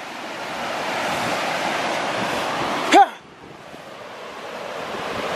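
A raging river in the Sierra Nevada near Lake Tahoe at Kyburz, California, in winter, with snow being tossed in, roars as a steady broadband rush, broken at one point by a sharp thump and a brief dip in level.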